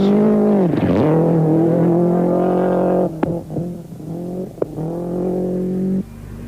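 Rally cars in the 1991 WRC Rally New Zealand roar past at speed, engines revving loud and close with sharp gear changes and a brief sweep as one car passes, the engine note holding steady before cutting off abruptly.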